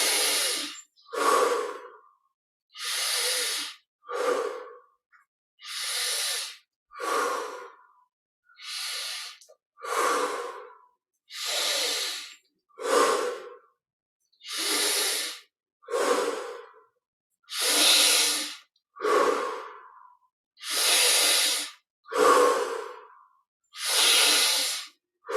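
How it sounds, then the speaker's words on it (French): Deep meditative breathing during guided Kriya Yoga practice, in through the nose and out through the mouth: slow, even, close-up breath cycles with long hissing inhales and exhales separated by short silences, repeating steadily about eighteen times. "Inspire par le nez, expire par la bouche."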